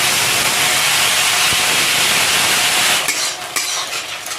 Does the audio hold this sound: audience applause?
no